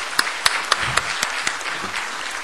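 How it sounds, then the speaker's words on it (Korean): Scattered applause from a small group, a few distinct claps standing out over a soft, steady patter that fades toward the end. "우리 박수로 환영해 드립시다."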